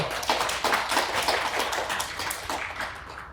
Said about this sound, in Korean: 모두 박수 부탁드리겠습니다.